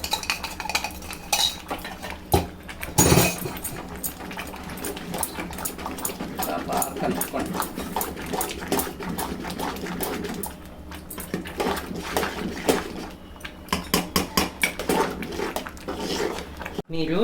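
A spoon scrapes and clinks in a pan while a ground mixture is stirred and ghee is added a little at a time, an uneven run of metallic taps and scrapes with a person talking throughout.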